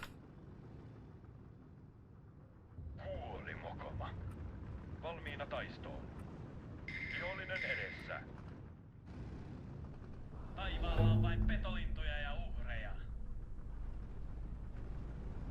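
Aircraft strafing ground targets in the Steel Division 2 wartime strategy game, heard as several loud bursts of gunfire and impacts that grow heavier toward the end, over a steady rumbling game background with a voice talking at times.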